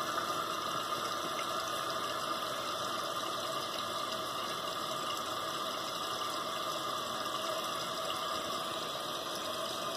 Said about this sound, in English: Basically the water should go up until it hits the float.